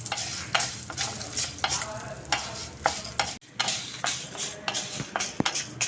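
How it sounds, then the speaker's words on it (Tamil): Urad dal and chillies frying in hot oil in a pan: a close, crackling sizzle broken by repeated scraping stirs, with one brief dropout midway. "எண்ணெய் சூடானது உளுத்தம்பருப்பு போட்டு நம்ம கோல்டன் ப்ரௌன் வர வரைக்கும் நல்லா ஃப்ரை பண்ணிக்கோங்க."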